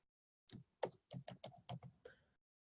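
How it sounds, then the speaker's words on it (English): Keys tapped on a computer keyboard while entering a discount code, about eight distinct clicks in an uneven run, close and fairly quiet, with no talking. "I'm typing it out for you."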